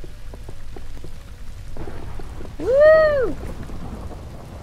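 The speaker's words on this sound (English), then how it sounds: "It's raining." Steady rain hiss over a Minecraft Story Mode game scene during a storm, with a constant soft wash throughout and a brief excited voice exclamation partway through.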